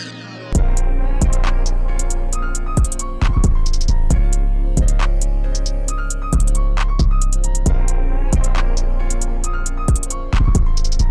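Loud, dense trap beat built in FL Studio, with a church organ line, booming kick and fast rolling hi-hats repeating steadily throughout, no voices.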